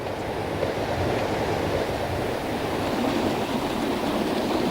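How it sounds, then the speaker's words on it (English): A turbulent trout feeder stream about three feet wide rushes steadily over its bed, a constant, fairly loud wash of moving water with a little wind and no voices. "this is one of the feeder streams where the trout are about to spawn. It's about 3 foot wide, turbulent in places"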